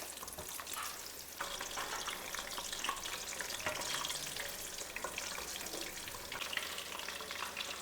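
Food fries in groundnut oil with a dense, continuous sizzle and crackle, loud and close, broken by occasional stirring scrapes and no talking.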